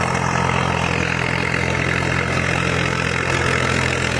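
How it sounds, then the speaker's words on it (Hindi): Tractor engine running steadily with a continuous low rumble and hum, close and loud, with no voices over it. "और ट्रैक्टर चला रहे हैं लगातार"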